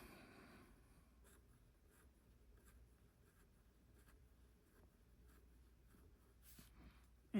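An Edison Papillon Light fountain pen with a stiff steel nib scratches across paper in short strokes, faint and close, with a brief louder noise at the end.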